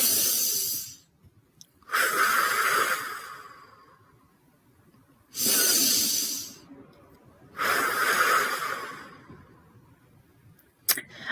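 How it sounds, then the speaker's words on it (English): A person takes slow, deep breaths close to the microphone, each a soft airy rush lasting about a second, separated by quiet pauses, with no other sound around them. "Let's go ahead and take 3 deep breaths and gather ourselves."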